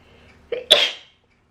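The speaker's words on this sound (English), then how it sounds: "I have to sneeze." A single sharp sneeze up close, a short indrawn breath and then the explosive burst, followed by silence.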